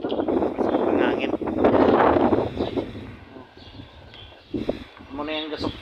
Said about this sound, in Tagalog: Baskog ang hangin.